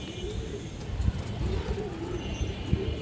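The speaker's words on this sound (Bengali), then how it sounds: "অনেক সুন্দর এক পেয়ার কবুতর দর্শক।" A pair of road-line flying pigeons coo repeatedly in soft rolling phrases over a busy background with scattered knocks and faint traffic.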